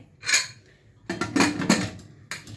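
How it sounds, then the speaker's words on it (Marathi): Food set down into a pressure cooker holding water and a trivet: a clattering metallic knock, then a cluster of clanks and scrapes of metal vessels, and a final clink, close and distinct. "आता आपण कुकरमध्ये ठेवणार आहे"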